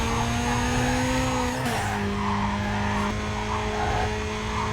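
A car in the racing game Need For Speed Carbon skids through a turn, with loud tyre squeal over a high, steady engine drone that drops in pitch midway as it shifts.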